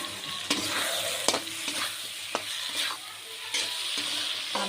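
Dried chili paste sizzles and fries in a pan, a steady hiss broken by repeated scrapes and knocks of stirring, close and fairly quiet with no talking.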